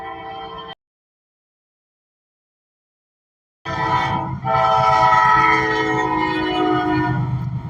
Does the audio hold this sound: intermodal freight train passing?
yes